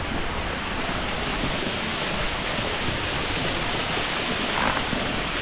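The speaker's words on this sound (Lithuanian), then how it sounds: "ten visur vanduo, kriokliai" Waterfalls and flowing water in the mountains of Núi Ngọa Long, the Lying Dragon Mountain in Vietnam, produce a steady, dense rushing roar that holds unchanged throughout.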